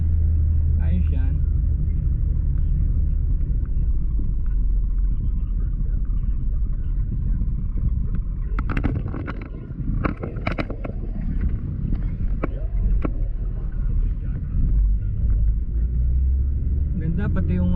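A Mitsubishi Adventure GLS Sport on the highway gives a steady low road rumble and engine drone throughout, with a brief louder passage of tire and wind noise midway and a few knocks from inside the cabin.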